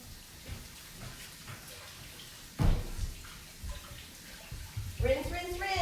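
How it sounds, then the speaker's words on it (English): Water runs from a sink faucet during handwashing, a steady low splash that picks up with louder splashing and gurgling toward the end, under occasional voice sounds. "Rinse, rinse, rinse. Turn off the water."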